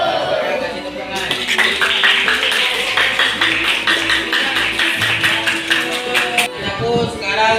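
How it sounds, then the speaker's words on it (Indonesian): A class of students claps in steady applause in a classroom, a busy patter of many hands lasting several seconds before fading, with voices murmuring underneath. "Kasih tepuk tangan."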